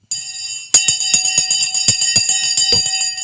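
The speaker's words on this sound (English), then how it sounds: "The bell has just gone." A stock exchange opening bell rings in a steady, sustained peal, joined by a rapid series of sharp claps or knocks that continue throughout.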